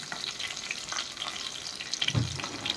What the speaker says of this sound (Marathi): लसूण आणि आलं, कढीपत्ता याची फोडणी दिली आहे